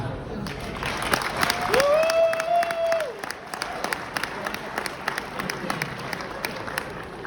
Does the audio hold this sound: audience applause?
yes